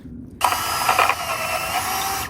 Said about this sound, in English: So antler to antler drilling, and it's not the best, but it works.